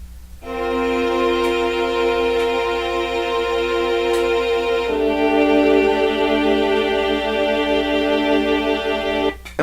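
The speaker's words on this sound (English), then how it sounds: "we're also introduced to these strings which go on until the song ends" Sustained string section from the closing stretch of a song, steady held chords that shift harmony midway, heard alone at moderate level with faint percussive ticks.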